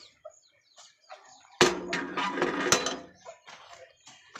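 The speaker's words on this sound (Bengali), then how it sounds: "এখানে 3টে বাচ্চাকে নিয়ে মুরগি রয়েছে একটা।" A mother hen with three chicks in a poultry pen clucks close by in a short burst, with faint scattered chirps and rustling before and after.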